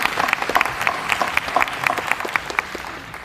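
A graduation crowd claps for people in uniform, with a steady patter of sharp claps that sounds moderately close and carries through the clip without speech.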